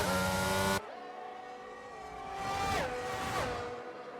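Formula 1 race cars in a video game run at the Austin circuit, a steady high engine whine with gear-shift pitch changes, one car swelling louder as it nears; a loud burst opens before settling to the continuous race drone.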